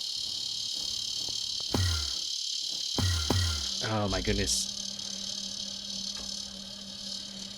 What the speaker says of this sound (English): The cicada decided he needed me to know he was here.